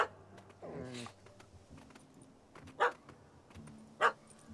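A puppy barks in The Witcher 3 after chasing a cat up a tree: a few sharp, spaced yaps over a low game ambience with scattered clicks.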